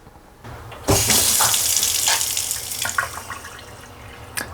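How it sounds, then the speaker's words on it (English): A faucet is turned on and water gushes steadily into a sink, loud and close, after a brief quiet moment, as the lines drain during a shower valve replacement. "we're going to go ahead and open up a faucet just to make sure some of the water drains out"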